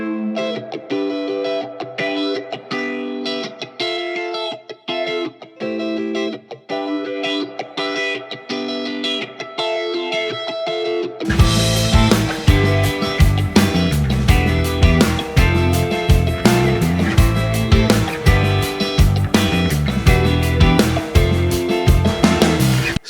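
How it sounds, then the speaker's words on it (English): Safari Pedals Bug Reverb, a lo-fi spring reverb plugin with compression, on played music: a sparse, quieter dry passage gives way to a loud, dense, gritty section with heavy ringing tails. "I'm following this up with Bug Reverb, which is a really cool lo-fi effect."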